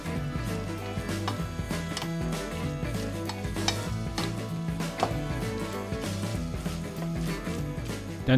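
Swabian cheese spätzle are stirred through melted cheese in a frying pan, giving a steady close sizzle with repeated scraping and clinking of the utensil against the pan.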